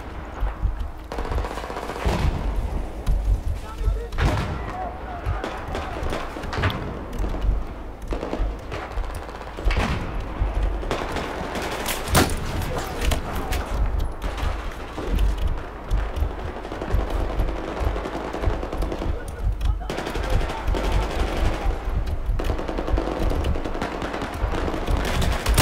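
Constant video game gunfire from Battlefield 4 team deathmatch, rapid automatic bursts and single shots rattling loudly and continuously with thuds and explosions layered throughout, no speech over it.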